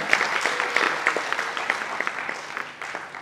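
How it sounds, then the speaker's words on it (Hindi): Audience applause for a dancer at a traditional ballet performance, a few seconds of scattered, moderately loud clapping that thins toward the end. "जोरदार तालियां हो जाए"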